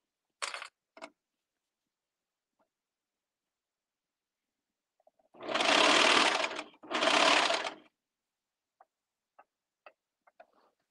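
A serger sewing machine stitches flare pants in two sustained runs of whirring near and loud, with brief clicks and taps before and after.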